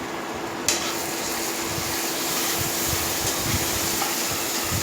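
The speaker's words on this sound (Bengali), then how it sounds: "এবার মশলাটা গায়ে থেকে যতক্ষণ তেল না বেরোবে ততক্ষণ মশলাটা কষতে থাকবো" Spice masala with onions frying in oil in a Bengali home kitchen for loitta (Bombay duck) jhal, giving a steady, close sizzle with faint stirring scrapes and no talk.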